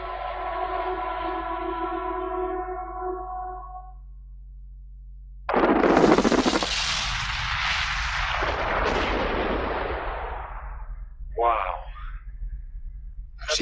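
Huge mining explosives blast at a gold mine, a sudden deep roaring boom that rumbles on for several seconds and then fades, followed by a shorter burst. A steady tone plays before it.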